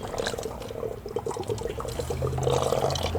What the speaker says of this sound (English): you can actually see the little water spout in there, where the water is being sucked down